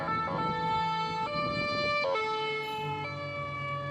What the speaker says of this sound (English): I heard the sound of sirens approaching in the distance